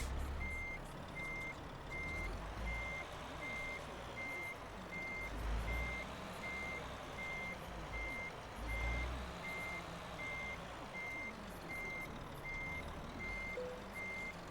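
Truck reversing alarm in Euro Truck Simulator 2 while reverse parking in Scandinavia, Denmark: a steady, evenly spaced electronic beep repeating throughout over a low diesel engine rumble and occasional air hiss, with no talking.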